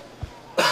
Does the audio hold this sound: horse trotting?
no